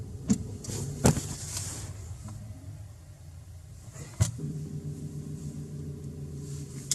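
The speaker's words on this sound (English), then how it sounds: "there's a point where you can feel the car start to move slowly" A manual stick-shift car idles and then creeps forward slowly as the clutch engages, a quiet low engine hum that rises slightly, punctuated by a few sharp clicks and knocks from inside the car.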